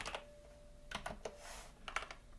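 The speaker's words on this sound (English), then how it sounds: "So I'll just type review here" Quiet keystrokes on a computer keyboard, a few scattered taps typing a short word over a faint background hum.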